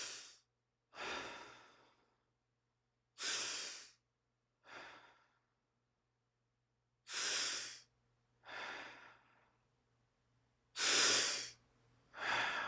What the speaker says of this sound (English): We're gonna do 5 regular charge breaths into our chest, and then we're gonna do 5 doubles into our chest.